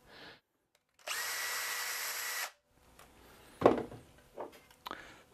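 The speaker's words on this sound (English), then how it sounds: "I'm going to drill around that and then yank out that nail so I can pull the joint apart." A power drill bores into a wooden chair joint around an embedded nail, giving one loud continuous whirring burst of about a second and a half, followed by a few short knocks and scrapes.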